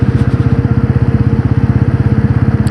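A Bajaj Pulsar N160 motorcycle rolls along in fifth gear without throttle, its engine giving off a loud, close, rapid and even pulsing thrum that holds steady throughout.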